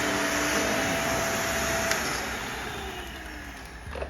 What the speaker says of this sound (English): that's just a vacuum